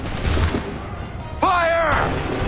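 A musket volley in Assassin's Creed 3 Remastered: one sudden loud crack of massed gunfire rings out after a shouted command voice, followed by a sustained rumble.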